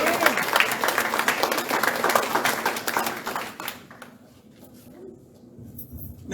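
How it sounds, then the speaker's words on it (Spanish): Church congregation applauding together at a worship service, loud dense clapping for about four seconds before it fades into quieter room tone. "Denle un aplauso al Señor."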